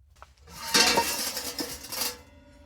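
A metal pan with oil is picked up and set down on a camp stove outdoors in winter, giving close clanks, scrapes and clinks of cookware that swell and fade over a couple of seconds, with nobody speaking.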